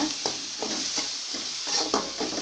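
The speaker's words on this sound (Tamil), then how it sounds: "எல்லா கத்திரிக்காயும் மசாலில் நுழைச்சி உள்ளே போட்டு நல்லா சிம்மிலேயே வச்சு நல்லா பரப்பி விடுங்க" Eggplants coated in masala fry in oil in a pan, a soft continuous sizzle broken by several spoon scrapes and stirring knocks at an uneven rhythm, close up with no talk.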